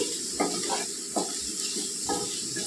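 Potato pieces frying in a pan over medium heat with garlic and chili powder, giving a steady sizzle broken by several stirring scrapes, close up with no talking.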